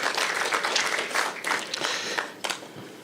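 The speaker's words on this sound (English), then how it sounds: "round of applause" Scattered applause at a Democracy Union of Africa forum at KANU Gardens after a speaker is thanked, quiet and uneven claps rising and dipping in small bursts over about three seconds.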